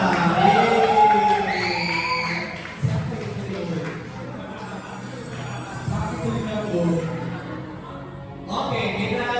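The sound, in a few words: crowd applauding and cheering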